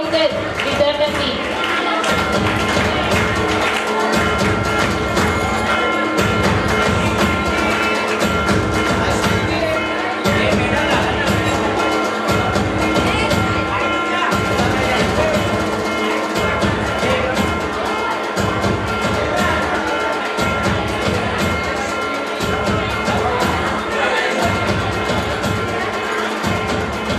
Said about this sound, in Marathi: टाळ्यांचा आवाज येऊ देत विद्यार्थ्यांनी.